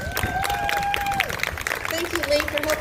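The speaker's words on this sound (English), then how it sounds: "give a round of applause to Lee Crosby" Audience applause at a vegan food festival, steady broadband clapping from a crowd with some cheering, fairly loud and continuous, with a sustained whistle-like tone and voices mixed in.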